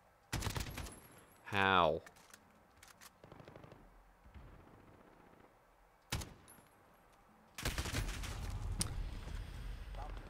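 Gunfire in Call of Duty: Modern Warfare multiplayer: short bursts of shots near the start, a sharp crack around the middle, then a sustained stretch of rapid fire toward the end, with a voice talking briefly in between.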